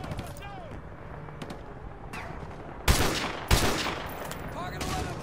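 Gunfire in the Modern Warfare 2 Campaign Remastered video game: two loud close bursts of shots stand out over a background of distant scattered firing and battle noise, with voices talking in between.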